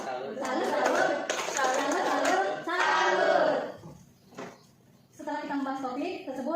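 A small group doing the tepuk salut clapping chant in a counseling session claps in short rhythmic bursts mixed with children's chanting voices, a brief pause midway before voices resume.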